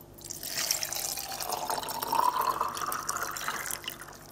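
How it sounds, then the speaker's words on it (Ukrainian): Plain water is poured into a glass jar holding walnuts, making a steady, moderately close liquid fill sound with no talking. "Тепер мені потрібно їх залити звичайною водою."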